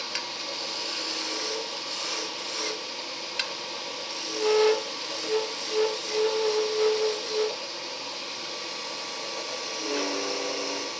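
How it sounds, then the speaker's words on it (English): A wooden wand blank spins on a lathe under a roughing gouge, making a constant airy hiss with whining tonal pulses that swell and fade through the middle, close and fairly loud. "doing real quick turning with a roughing gouge"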